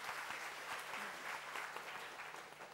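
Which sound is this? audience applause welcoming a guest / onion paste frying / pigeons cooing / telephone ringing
audience applause welcoming a guest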